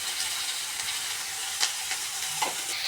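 Pointed gourd (potol) sizzles steadily as it fries in a pan, a constant close hiss with a few faint stirring clicks on top.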